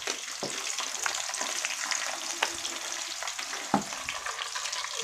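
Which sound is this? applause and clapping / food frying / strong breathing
food frying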